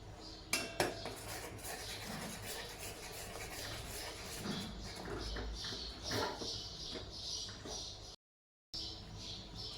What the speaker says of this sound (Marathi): आणि हे सर्व व्यवस्थित मिक्स करून घेऊयात